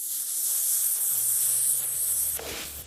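Whisked eggs are poured over vegetables in a hot frying pan, giving a bright, steady sizzling hiss that swells and then drops off near the end, with no voices.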